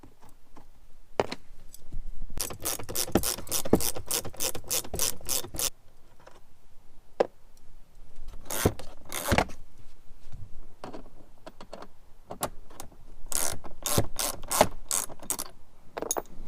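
A hand ratchet loosens long bolts on a Jeep Wrangler in fast, clicking bursts separated by pauses, close-up and sharp against a quiet background.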